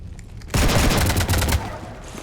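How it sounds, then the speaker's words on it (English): Sustained burst of gunfire aimed at a ship in the Mass Effect video game, a loud dense fusillade lasting about a second before cutting back to a quieter background hum. "You want to stop shooting up my ship?"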